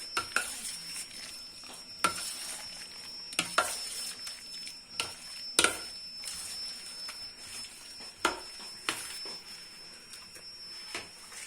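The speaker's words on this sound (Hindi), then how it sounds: "पकौड़े इस तरह से डाले जाते हैं, मैं आपको दिखाता हूँ" Spoonfuls of pakora batter dropped into hot frying oil, a soft continuous bubbling with sharp sizzling bursts every second or two as each portion hits the oil, close and alone.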